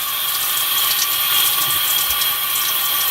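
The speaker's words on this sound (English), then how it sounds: "we're gonna go ahead and turn the water on and get it ready" Water from a bathroom tap runs in a steady, continuous hiss while hair is being prepared for a rebonding treatment. The flow is close, fairly loud and unbroken, and no one talks over it.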